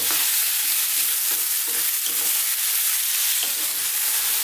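Beef pieces for a beef mushroom curry brown over high heat in a pan, a close, steady sizzle broken by repeated scraping strokes of stirring.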